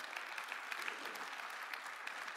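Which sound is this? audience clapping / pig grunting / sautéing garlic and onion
audience clapping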